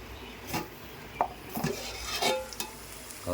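Chicken frying in a pan for a chicken masala gravy, with a low sizzle under a few scattered scrapes and clinks of a utensil stirring against the pan.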